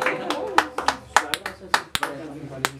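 Applause from the audience at a mariachi birthday performance. Sharp, uneven claps ring out while a voice keeps speaking over them.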